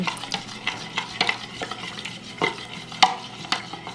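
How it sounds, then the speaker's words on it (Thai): Egg and roti dough mixture for Thai roti stirred in a bowl, a run of repeated soft clacks and scrapes in an uneven rhythm, close and fairly loud, with one sharper knock near the end. "ทีนี้เราก็ตอกไข่เข้าไปแล้วก็คน"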